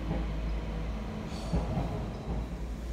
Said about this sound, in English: We've got one of the new Transport for Wales Class 197 DMUs.